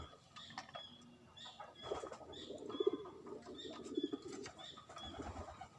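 A zebra dove (perkutut) gives a series of soft, rounded coos in short rhythmic phrases, close but quiet, over faint background noise and a few light rustles.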